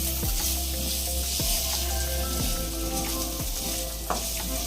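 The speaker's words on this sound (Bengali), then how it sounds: "এবার এই বাটারের মধ্যেই আমরা দেবো রসুন কুচি।" Chopped garlic sizzling in melted butter in a pan for chicken egg soup, a steady close bright hiss with a few soft scrape-like taps of stirring spaced about a second apart, no voices.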